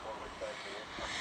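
Jet airliner rotating and lifting off at Dallas Fort Worth International Airport, a steady distant engine roar with a voice talking over it.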